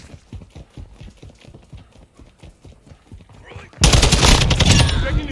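Sustained automatic gunfire erupts suddenly and loudly in a Call of Duty Modern Warfare 2 domination match, following a stretch of rhythmic footstep-like clopping.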